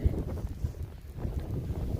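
Strong snowstorm wind in Canada blows steadily as a low, rumbling roar with gusty buffeting across the whole stretch, close to the microphone and with no voices.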